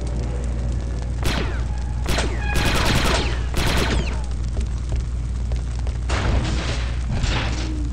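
Blaster fire in the video game Star Wars Republic Commando, aimed at a Trandoshan proximity mine: several sharp, loud bursts of shots over a constant heavy rumble of game ambience, with crackling impacts toward the end.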